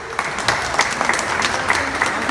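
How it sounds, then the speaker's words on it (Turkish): Wedding guests applaud during a Turkish civil marriage ceremony, a dense and fairly loud burst of many hands clapping that carries on steadily, with brief sharper claps standing out from the crowd. "Alkışlıyoruz."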